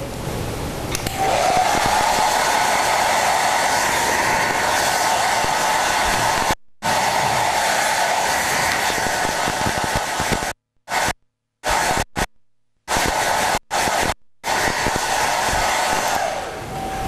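A hair dryer runs loud and close, used to dry paint on an abstract painting, a steady blowing whine broken several times near the end as it is switched off and on again.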